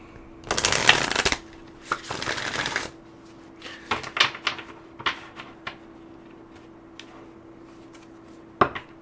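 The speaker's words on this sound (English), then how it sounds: "So let's pull you a moon manifestation card before we wrap this up" Moon manifestation cards shuffled and pulled from a deck, a few close bursts of riffling followed by scattered soft taps and flicks of card handling, quiet and without talk.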